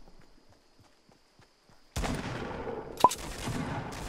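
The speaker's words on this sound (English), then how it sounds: "I hit him with the stickiest of the AK." An AK rifle fires in Fortnite Battle Royale. After a stretch of quiet faint ticking, a loud sustained burst of gunfire breaks in abruptly, with one sharper crack standing out partway through.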